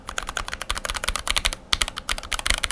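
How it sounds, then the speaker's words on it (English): Fast, steady typing on a mechanical keyboard lubed with thin spray lube, with smooth, fairly soft clacks in a quick continuous rhythm, close up. "You have like a keyboard that feels like it's been lubed with a really thin lube."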